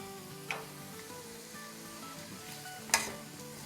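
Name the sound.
meat sizzling and crackling while frying for pickle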